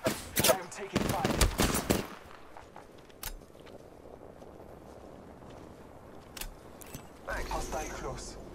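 Gunfire in the Apex Legends battle royale shooter: a loud cluster of rapid shots in the first two seconds, then scattered single cracks and footsteps over low ambience, with another burst near the end.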